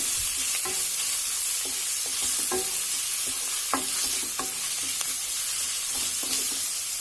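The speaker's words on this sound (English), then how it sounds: "keep frying this along with the onions so that the raw flavor of the garlic and ginger" Onions fry with ginger garlic paste in a pan for a soyabean curry, a steady close sizzle under repeated scraping strokes of a spoon stirring the mixture.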